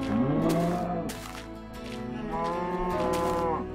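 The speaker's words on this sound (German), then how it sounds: "Wo ist die kleine Kuh?" A cow moos in the video game Minecraft, with two long, loud, close lowing calls separated by a brief pause and no talk.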